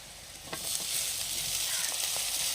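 Onions sautéing in a pan sizzle steadily, a near, continuous frying hiss with occasional soft stirring scrapes as tomato goes in.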